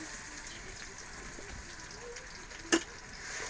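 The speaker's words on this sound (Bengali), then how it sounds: "রসুন আর লবণ একটু ভাজা নেব" Garlic paste and salt fry in mustard oil in a pan in a village kitchen, giving a faint, steady low sizzle with one short sharp clink partway through, no voices.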